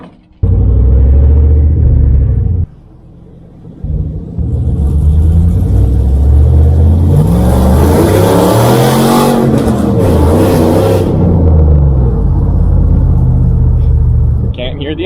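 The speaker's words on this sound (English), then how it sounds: "see if we can hear the intake noise at all" A Dodge RAM truck engine with an aftermarket intake rumbles loud and close, dipping briefly before rising into a sustained rev with a breathy intake rush, then settling back to a steady drone; a voice speaks over it.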